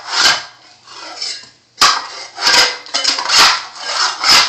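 A tile scraper working up carpet tack strips: repeated harsh scraping and rasping strokes on wood, close and loud, with short pauses between pushes.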